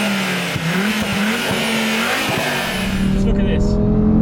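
A 650 bhp Audi RS3 engine revs hard and close, its loud droning tone holding steady and then climbing sharply near the end, with a voice partly heard over it.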